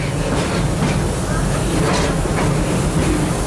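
Riding aboard the Serengeti Express train at Busch Gardens, a loud, continuous rumble and clatter of the cars fills the space, broadband and steady, with faint rhythmic clicks and a voice partly masked underneath.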